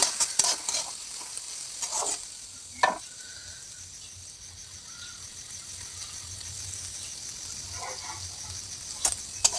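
Chopped garlic and torn green chilli sizzle with onion in a pan. A spatula scrapes and knocks in quick bursts at the start and again near the end, with a softer continuous frying hiss between. There is no talking.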